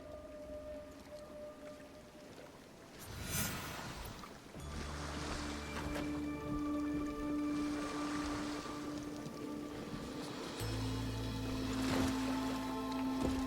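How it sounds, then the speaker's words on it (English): A rowboat crosses a sacred lake in Assassin's Creed Shadows, with soft water lapping and splashing against the hull under rain-like patter and low sustained tones, all fairly faint. "We will row from Isakiji Temple to Shirahige Shrine"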